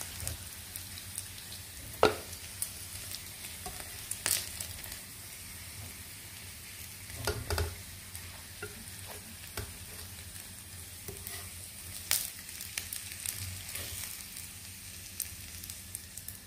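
Burger meat patties frying in a pan give a soft, steady sizzle with scattered pops and occasional crackles at moderate distance; no speech.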